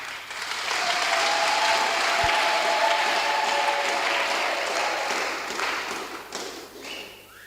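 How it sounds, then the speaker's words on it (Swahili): An audience in a crowded church hall bursts into loud, sustained applause, a dense clapping roar that swells quickly, holds steady, then tapers off toward the end. "Mbona hawa hamuwapi makofi kidogo?"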